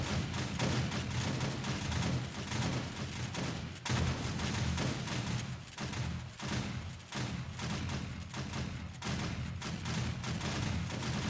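Shotgun turrets firing at a zombie horde in 7 Days to Die, a dense, continuous stream of booming shots with heavy low thumps, steady and loud throughout with brief dips.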